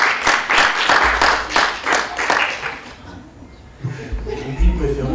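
Audience applause at an evening conference on tourism and heritage, a burst of clapping with some chuckles for about three seconds, then fading into low murmur and shuffling.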